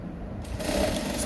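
A sewing machine stitches a kids' elastic-back short, a short close burst of whirring mechanical stitching that starts partway through and holds steady to the end.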